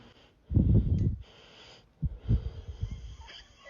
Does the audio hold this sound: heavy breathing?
yes